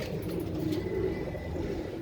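Kept pigeons coo in low, rumbling, continuous tones close by, with faint chirps and distant traffic behind them.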